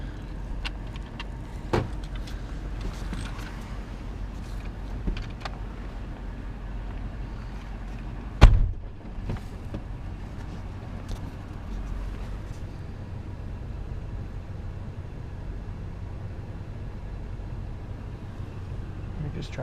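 Car driving along a road on a hunting outing, a steady low engine and road rumble inside the vehicle with wind noise, occasional clicks and one sharp knock, under quiet talk.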